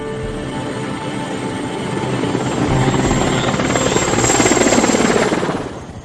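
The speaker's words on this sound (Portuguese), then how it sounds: "quando ouvimos um helicóptero e foi um barulho tão bem-vindo" Over a swamp at night, a helicopter's rotor thumps in a steady rhythm, swelling louder as it draws closer and passes overhead before fading slightly, with no voices.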